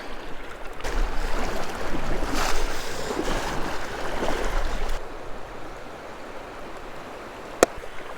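Rushing river water and splashing as someone wades across a deep section of the Upper Housatonic while fly fishing, loud and close for about five seconds before easing into a quieter steady flow with a sharp click near the end.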